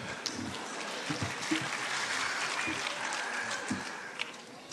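Audience applauding at a state-level competition ceremony, a sustained, fairly loud round of clapping from a crowd with some individual claps standing out.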